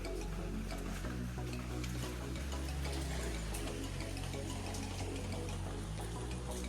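Heavy rainwater runs and trickles through a poorly waterproofed building in a downpour, a dense constant wash of flowing and splashing water with a low steady hum underneath, close and continuous.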